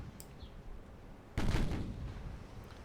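In the naval battle game Ultimate Admiral: Dreadnoughts, 11-inch guns fire one heavy, booming salvo that rumbles and slowly fades, after a quieter stretch of distant battle noise.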